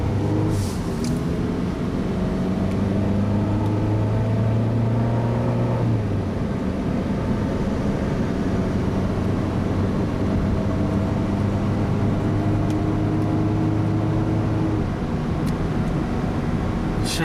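A Honda Civic drives with a steady engine drone whose pitch rises, drops at a gear shift, then climbs again. Road and cabin noise is constant, with no talk.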